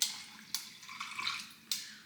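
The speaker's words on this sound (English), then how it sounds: "Hopefully this is the last time I am filling up my water bottle for the day." Tap water running into a water bottle, a steady close splashing stream with a few brief louder gushes over about two seconds.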